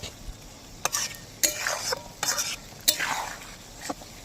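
Chili chicken simmers in a pan while it is stirred, so a soft low sizzle runs under several short, bright scraping strokes of the utensil, heard close with no talking.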